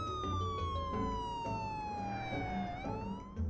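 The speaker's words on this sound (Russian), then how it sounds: "Андрюха, тогда мигалки включай, поехали!" Police car siren in the sandbox game Garry's Mod, a loud wailing tone sweeping slowly down in pitch, then turning and climbing again, sounding close over a rumbling engine-like background.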